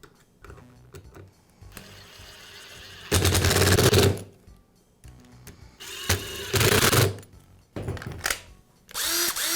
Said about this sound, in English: And then secure it with the screws.